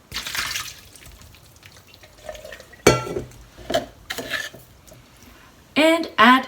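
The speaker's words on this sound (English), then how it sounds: "Now drain the water." Soaking water being drained from kampyo gourd strips in a kitchen sink, with splashing pours and trickling bursts between pauses, a voice speaking over parts of it.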